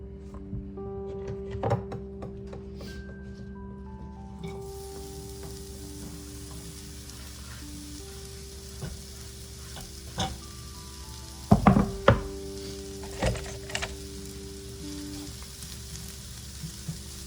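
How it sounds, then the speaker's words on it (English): Diced sausage and zucchini cook in a hot skillet with a low, steady sizzle. A few sharp clatters and scrapes of a spatula stand out near the middle, and no one speaks. "we're going to go ahead and get this in the pan so it can start cooking in our hot pan"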